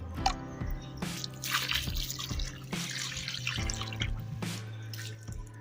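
Water poured by hand into a ring of wet clay during a rural mud-plastering job in Punjab, with close dripping and trickling splashes over a steady low background hum.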